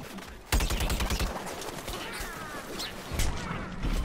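Bombs drop and explode in Plants vs Zombies Garden Warfare 2, a dense burst of loud blasts and crackling impacts with chaotic gunfire-like bursts layered throughout, surging again near the end.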